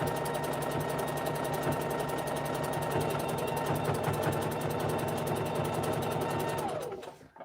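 A sewing machine stitching a jelly roll rug, a steady fast mechanical whir and rapid needle chatter, close and loud, running evenly for several seconds before slowing and stopping.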